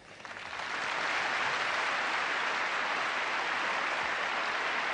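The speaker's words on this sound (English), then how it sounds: "the first country to get 12 votes gets a big round of applause" A large audience breaks into a big round of applause during the Eurovision Song Contest 1988 voting, the clapping swelling within a second into a dense, sustained roar that fills the hall.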